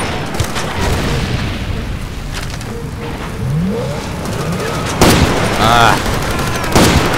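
Gunfire in the video game Far Cry 2, with booming shots and bursts over constant background noise, the loudest cracks near the end, while a man calls out briefly.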